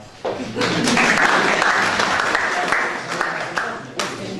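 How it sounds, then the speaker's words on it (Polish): A room at a local forum meeting breaks into applause, a dense patter of many hands clapping that swells quickly and holds for a few seconds before thinning out. "Brawa."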